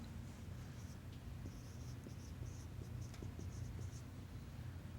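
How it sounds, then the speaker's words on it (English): Chalk or marker writing on a board in a lecture room, a faint series of light scratchy taps and strokes repeating irregularly over steady room hiss for about five seconds. "I suppose I'm mostly writing anyway"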